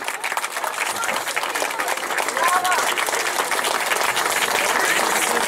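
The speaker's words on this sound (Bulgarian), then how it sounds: "аплодисменти за тях" Sustained crowd applause at an outdoor awards ceremony for class winners of the Shipka 2013 car race, steady dense clapping from many people filling the whole stretch.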